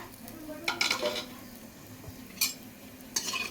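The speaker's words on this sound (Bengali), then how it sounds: "কড়াইতে আর তেল দেওয়া লাগবে না ওই তেলে আমি গোটা গরম মশলা" Whole garam masala spices sizzling in leftover oil in a kadai while making chicken korma, with a soft sizzle under a few sharp metallic clinks and scrapes of a spoon against the pan, close by.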